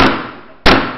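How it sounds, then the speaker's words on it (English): A gavel bangs twice at a city inauguration ceremony, each strike a loud, sharp crack with a decaying ring, the second hit louder than the first, with no voices over them. "you bang the gavel. Bang it often."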